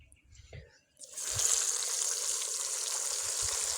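Fish pieces dropped into hot ghee set off a sudden loud, steady sizzle partway through that holds without a break, after a few soft knocks and handling sounds.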